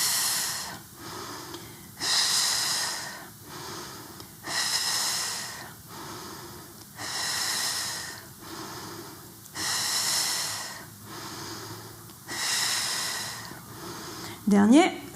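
Rhythmic, forceful breaths exhaled again and again during a pilates exercise, about seven long breathy pushes at a steady pace, fairly close, with a brief voice at the very end.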